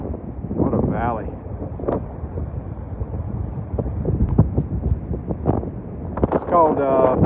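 Strong wind buffeting at a valley overlook, gusty rumbling bursts against the microphone throughout, with people speaking over it.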